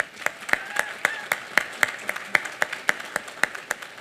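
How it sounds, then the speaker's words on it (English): A small group claps at an outdoor groundbreaking ceremony for a seafood business, the applause thin with distinct individual claps standing out in an uneven rhythm. "Let's give them a round of applause"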